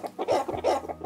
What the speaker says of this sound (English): Have some chicken sounds.